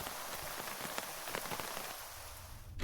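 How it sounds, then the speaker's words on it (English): Steady rain pours in the video game Terminus Last Escape, a dense even hiss of drops hitting surfaces that carries on without a break and cuts off abruptly at the end, with no voices. "finally the rain stopped"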